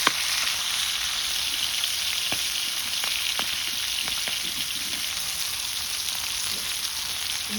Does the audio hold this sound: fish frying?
yes